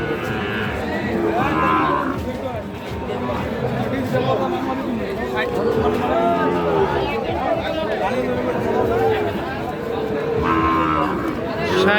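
A Sahiwal bull calf at a cattle market moos a few times, long low calls rising above constant crowd chatter and people talking nearby.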